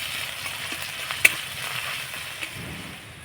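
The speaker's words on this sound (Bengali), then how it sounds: "ফোড়নটা একটু হালকা নাড়াচাড়া করে ভেজে নেব" A tempering of cumin, grated ginger and chopped green chili frying in oil, a soft steady sizzle with a sharp click of a spoon and light stirring, fairly quiet and without voices.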